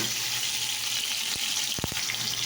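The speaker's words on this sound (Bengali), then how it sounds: "দেখো দিয়ে দিয়েছি, এই পটলটাকে ভাজছে" Pointed gourd frying in hot oil in a home kitchen, a steady dense sizzle that fills the clip, close and fairly loud, with a couple of brief clinks of a utensil.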